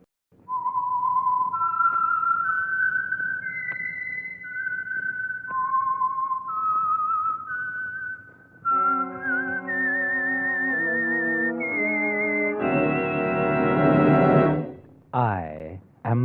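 A whistled theme identifies the Signal Oil radio program The Whistler: a lone, clear melodic whistle rises and falls in steady phrases, then blends into fuller orchestral music near the end.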